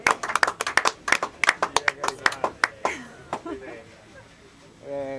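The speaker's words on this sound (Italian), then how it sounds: "Bravo, ancora un applauso." Audience at an evening poetry event applauds, heard as a short run of distinct, fairly close hand claps in an uneven rhythm that thins out and stops, followed by a voice speaking.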